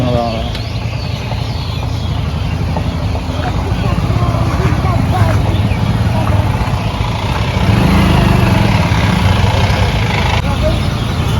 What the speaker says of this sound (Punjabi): ਆਹ ਦੇਖ ਕਿੱਦਾਂ ਟਰੈਕਟਰ ਖਾਲੀਆਂ ਆਏ ਆ